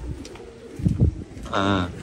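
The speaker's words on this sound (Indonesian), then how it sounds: "Ini di bawahnya ini banyak merpati atau burung dara" Pigeons coo nearby in soft low throaty bursts, with a brief whirring call toward the end over faint background noise.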